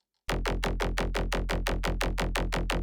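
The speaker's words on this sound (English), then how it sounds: "For the main 8-note bass, we'll be using preset from my pack" Melodic drum and bass synth bass preset named Harm plays a steady run of rhythmic, filtered plucked notes with a deep sub underneath, loud and alone after a short silence.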